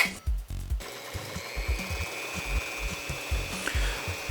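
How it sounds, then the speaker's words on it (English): A small workpiece spins in a drill press while being sanded, wobbling as it turns: a thin, steady motor whine over irregular low thumps and rubbing, fairly quiet, with no talking. "I was able to rotate the piece and start sanding it"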